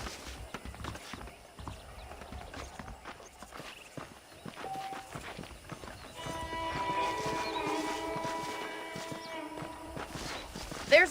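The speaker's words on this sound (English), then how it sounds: "The horses are saddled up over here." Saddled horses in the Red Dead Redemption video game clop along at a walking pace with steady hoofbeats, joined by a short whinny near the end.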